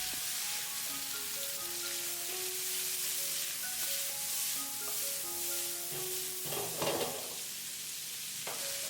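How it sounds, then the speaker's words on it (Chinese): Cauliflower with garlic, chili and soybean paste is stir-fried in a wok for a dry-pot dish, sizzling steadily while a spatula tosses it, with one louder scraping clatter near the end and soft music playing underneath. "接下来把炒好的花菜直接倒在锅里，再次翻炒均匀，把花菜炒出蒜香味和辣味"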